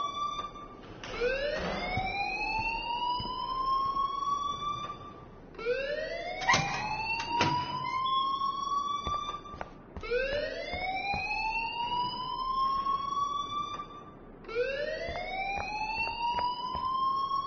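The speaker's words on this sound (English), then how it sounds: "please turn off that alarm since that's your job" A rising and falling alarm siren wails through a school corridor in Life is Strange, repeating in four long sweeping cycles, loud and steady with no talk over it.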